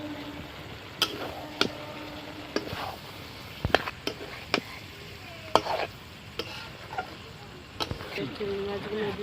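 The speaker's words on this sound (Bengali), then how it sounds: "মশলা থেকে তেল ছেড়ে দিয়েছে, তা আমি এবারে এঁচড়টা দিয়ে দেবো, ভালো করে কষে নেব।" Young jackfruit being stir-fried and worked in spiced oil with yogurt, with scattered clinks and scrapes of a spoon against the pan, a low sizzle underneath and a voice speaking over it.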